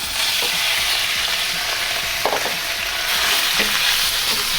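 Beef frying in an oiled pan gives a loud, steady, close sizzle throughout, with a few soft scrapes and taps as the meat is spread out.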